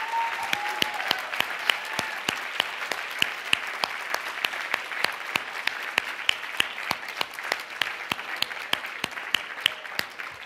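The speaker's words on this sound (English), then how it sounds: "Will you please give him a wonderful round of applause?" An audience applauds steadily throughout at a cooking demonstration event, a dense, even clatter of many hands clapping at close range with no pause.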